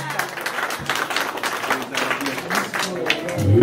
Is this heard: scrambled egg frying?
no